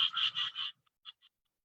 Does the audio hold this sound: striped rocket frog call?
yes